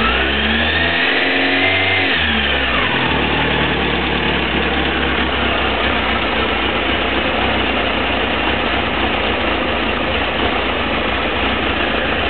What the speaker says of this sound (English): you can tell the engine sounds lovely and sweet, like it should do